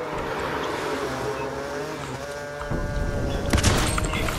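Motorbike approaching in Fortnite during a squad match: a rising engine drone builds over game noise, then turns louder and rougher as it nears, with a burst of harsher noise near the end.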